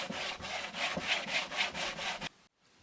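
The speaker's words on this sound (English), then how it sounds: "I'm going outside to carry on sanding the table." Rhythmic back-and-forth rasping on wood, about seven strokes in a steady rhythm, loud and close, then stops abruptly into near silence.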